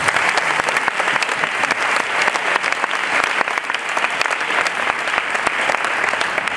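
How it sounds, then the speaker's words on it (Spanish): Loud, sustained applause from a conference audience in Seville, dense rapid clapping filling the whole stretch without voices. "a todos ustedes les pido un aplauso para ellos"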